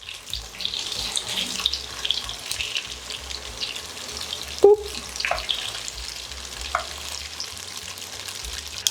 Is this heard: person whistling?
no